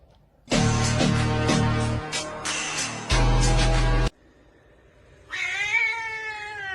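A cat lets out several loud, drawn-out meows and yowls in close succession, then pauses briefly before a final rising, wavering meow. No one speaks.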